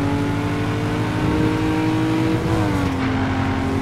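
A race car engine in Need for Speed: Carbon drones loud and close, holding a high steady tone as it accelerates, with a brief pitch shift near the end, no voices.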